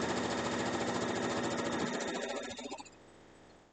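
A sewing machine runs steadily, stitching rows with a continuous, even whir. It slows and winds down near the end, leaving a faint hum and then quiet.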